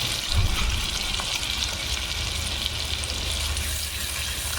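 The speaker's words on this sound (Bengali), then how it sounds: "টমেটো কুচি দিয়েও আমি তিন মিনিট কষিয়ে নেব" Chopped tomato and cashew paste masala sauté in oil in a pan with a steady, dense sizzle. The hiss holds an even level from start to finish, close by, with no talking.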